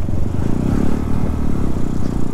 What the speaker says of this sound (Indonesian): Anginnya terlalu kencang ini teman-teman ya.